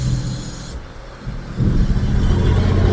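A Ram Mega Cab diesel truck's engine exhaust rumbles low and steady, close and loud, then swells into a deeper, stronger growl partway through as the engine picks up.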